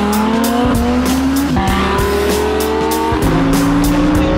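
Lamborghini Huracan Performante braking hard, loud engine tones sweeping down through gear changes with tire squeal and skidding, close and continuous with no talk.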